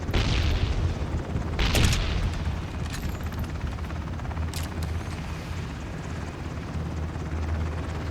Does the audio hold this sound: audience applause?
no